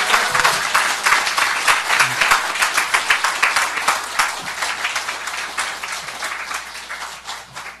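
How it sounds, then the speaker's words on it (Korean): A church congregation at a thanksgiving worship service gives warm applause as the pastor comes forward, dense sustained clapping from many hands that gradually fades toward the end. "우리 나오실 적에 큰 격려의 박수 할렐루야로 이렇게 답해 주시면 고맙겠습니다"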